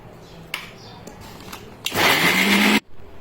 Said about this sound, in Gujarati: ઢાંકણું ઢાંકીને મિક્સરમાં ઘુમેડી નાખવાનું